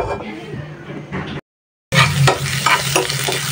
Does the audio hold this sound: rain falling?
no